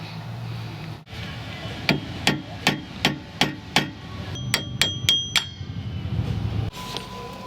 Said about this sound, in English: If not, I may have to just hammer it.